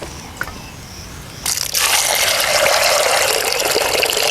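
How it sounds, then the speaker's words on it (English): Water gushes steadily from a tap or container over peas being washed in a Kenyan village kitchen, starting abruptly after a quiet moment and running loud and continuous to the end. "Once you finish, you put water, you wash the peas."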